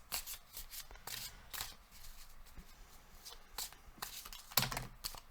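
Tarot cards being shuffled by hand, close and soft, with repeated papery riffles and slaps in uneven bursts and a faint rustle between them.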